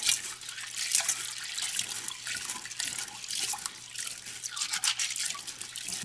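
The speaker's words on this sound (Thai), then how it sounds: "ก่อนอื่นเราก็จะนำมาล้างน้ำสัก 2 หรือ3น้ำก่อน เพื่อที่จะคัดเอาเม็ดที่ เสียออกแล้วก็ ล้างฝุ่น ออกนะคะ" Job's tears grains are rinsed and rubbed in a bowl of water, giving continuous splashing and swishing with small drips and sloshes, close and fairly quiet, with no one talking.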